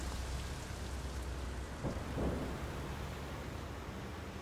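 Steady broadband rain hisses throughout a rainy scene in the video game Sleeping Dogs, with a brief low rumble like distant thunder swelling near the middle; no one speaks.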